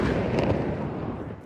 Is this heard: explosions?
yes